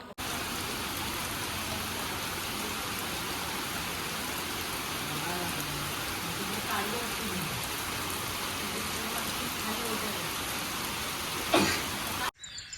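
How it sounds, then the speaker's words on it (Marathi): Steady rain pattering on surfaces all around, a dense even hiss that continues throughout before stopping abruptly at the end. "आम्ही पावसाचा आनंद घेतो आहे"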